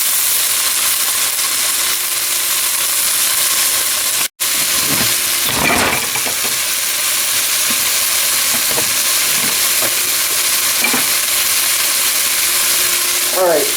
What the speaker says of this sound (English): we're going to start wilting this cabbage